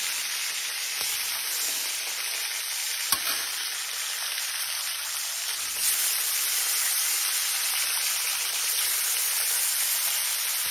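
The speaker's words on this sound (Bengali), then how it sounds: "মাছগুলোকে এবার ওই তেলেতে আমি ইলিশ মাছগুলোকে অল্প করে ভেজে নেব" Hilsa fish sizzle steadily in hot oil in a wok, a dense, loud, continuous hiss with a couple of faint clicks and no voices.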